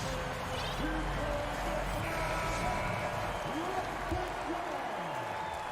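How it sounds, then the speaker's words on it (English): Crowd applause swells in an NBA 2K23 basketball game, a steady wash of clapping and arena noise held at moderate level beneath a commentator's voice. "Please give a big round of applause for your Grizzlies."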